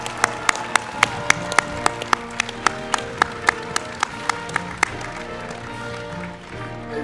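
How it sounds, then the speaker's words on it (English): Graduating students receive applause at a university commencement ceremony, with distinct, regular sharp claps standing out over a softer crowd background before fading toward the end. "Let's have a round of applause for our graduate students."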